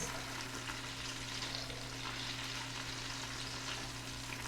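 Food browns in a hot frying pan with a steady, even sizzle that holds at a moderate level throughout, close by and with no voices.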